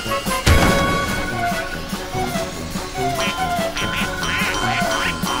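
Cartoonish duck quacks pop up repeatedly on a Team Fortress 2 Halloween Doomsday server, starting after a sharp crash and mixed with jingling game effects and music, with no talk.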